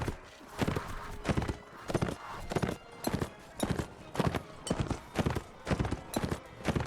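Horses charging across a battlefield in Mount & Blade: Warband, a fast, steady run of hoofbeats pounding in a regular galloping rhythm, close and fairly loud, with no voices over them.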